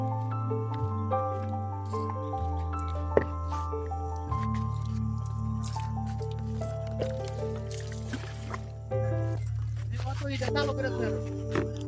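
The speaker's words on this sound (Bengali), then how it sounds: "যে গাছে ডিপ ইরিগেশন লাইন নেই সে গাছে এভাবে পানি দিতে হয়" Garden trees are watered by hand, with liquid squishing and dripping nearby over a steady tonal hum.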